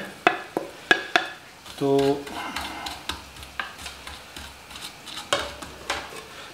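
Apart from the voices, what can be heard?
cumin seeds being roasted in a pan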